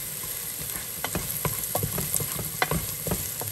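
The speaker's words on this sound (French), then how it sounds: "Je vais encore aller mélanger l'ail et mon oignon." Garlic and onion sizzle steadily in a frying pan for samosa filling, with repeated scraping stir strokes of a utensil against the pan, close and moderately loud, with no talking.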